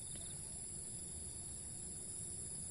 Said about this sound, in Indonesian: Ada suara jangkrik dan ada suara burung.